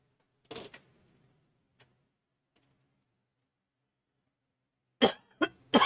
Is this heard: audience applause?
no